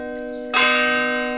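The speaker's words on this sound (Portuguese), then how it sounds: "portanto, as badaladas do sino" A church bell strikes once, loud and close, its rich tone ringing on over the fading hum of an earlier toll.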